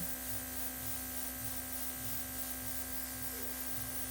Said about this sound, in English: now I'm going to turn the air up to full blast and just dry it